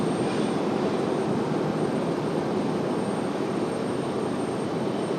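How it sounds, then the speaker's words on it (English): An Alaska Airlines plane departs RDU for San Diego with a steady, broad engine roar that stays loud and even throughout, with no voices. "We might have Alaska up for departure too here in a minute."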